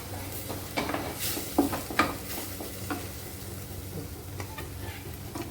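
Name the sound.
spices frying and being stirred for chana dal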